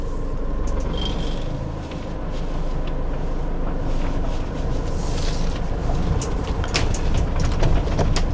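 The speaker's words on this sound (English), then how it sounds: "there's lots of things bouncing around in the van." Inside a Giottiline Siena motorhome on the move, a steady road rumble runs throughout, with scattered clicks and light rattles of loose items bouncing around the cabin, fairly close and continuous without any talk.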